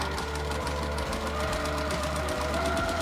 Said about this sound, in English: I have my needles down, and I'm going to keep sewing.